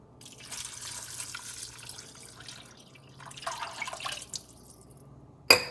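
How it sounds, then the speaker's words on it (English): Water pours into a soup pot already holding lima beans, heard as quiet splashing bursts with pauses and a sharp clink right at the end. "We're going to add the 5 cups of water."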